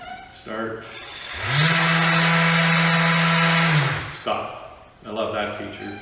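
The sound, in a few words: Festool ETS EC150/5 random orbit sander running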